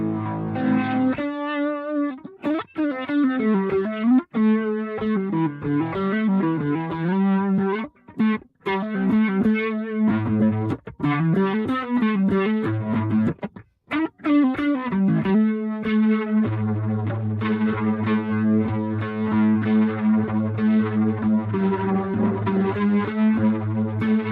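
Electric guitar played in stereo through a Boss RT-2 Rotary Ensemble pedal, a swirling rotary-speaker effect over distorted, sustained notes and bending melodic lines, loud and continuous with a few short breaks.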